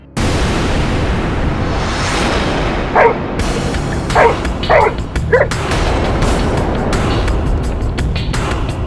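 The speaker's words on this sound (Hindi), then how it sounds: "क्यों भौंक रहा है?" Several sharp dog barks come at irregular intervals, cutting through a loud, steady wash of background noise.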